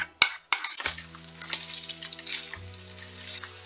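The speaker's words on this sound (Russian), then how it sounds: "Добавил масло и обжариваю здесь мясо." Meat fries in oil in a pan, a continuous close sizzle and crackle after a few clinks at the start, with a low steady hum running underneath.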